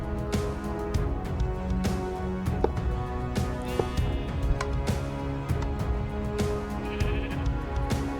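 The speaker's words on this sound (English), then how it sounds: "I got sheep all over the place here." Sheep bleat repeatedly in Minecraft against a dense, busy backdrop of game music and effects, the calls overlapping at a steady moderate level.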